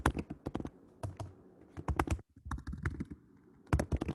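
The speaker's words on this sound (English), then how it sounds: "We hear you typing." Someone types on a computer keyboard during an online meeting, producing quick close clusters of sharp key clicks with brief pauses between bursts and no voices.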